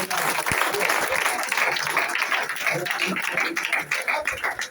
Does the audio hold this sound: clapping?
yes